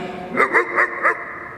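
A voice imitates a dog barking, giving four quick, close barks in an even rhythm, delivered in a children's storytelling session.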